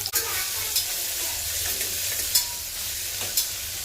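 Onion fries in oil in a pan. A steady sizzle carries light stirring scrapes and a few small clinks, with no talking.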